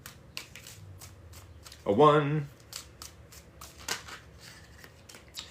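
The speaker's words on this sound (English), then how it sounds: "3 more shuffles." Tarot cards shuffled in a quick ruffling burst, a bridge-style riffle lasting about half a second, set among scattered light clicks and handling taps, with a brief spoken count just after.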